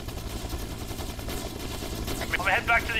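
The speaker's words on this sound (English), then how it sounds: "I'm trying to shoot ants with a nail gun" A video-game nail gun fires steadily at ants, a dense continuous stream of rapid shots beneath battle noise and a chirping effect near the end.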